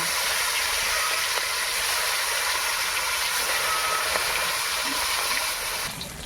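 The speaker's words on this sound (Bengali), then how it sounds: "এবার মাছ ভেজে নেব।" Koi fish frying in hot oil, a steady loud hiss and crackle that runs unbroken, easing slightly at the very end.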